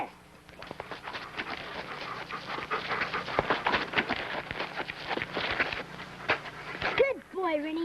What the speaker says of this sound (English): Call off your dog, Rusty.